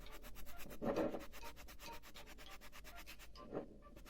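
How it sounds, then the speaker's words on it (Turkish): Quiet, rhythmic light sanding of painted decorative pomegranates with sandpaper, back-and-forth strokes at a steady pace, faint and close. "Şöyle hafif bir zımpara vuracağım."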